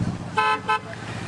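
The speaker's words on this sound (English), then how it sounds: "We got 3 honks." A passing car gives two short honks of its horn in quick succession, set against road noise and faint voices nearby.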